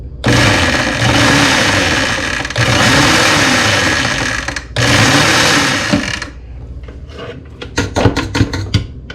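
A food processor pulses cilantro for homemade salsa in three loud whirring bursts of about two seconds each, then a quick series of short choppy pulses at the end.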